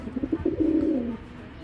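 An Indian high flyer Kagzi pigeon gives a short run of soft, throaty coos at close range, rising into one longer rolling coo before it goes quiet.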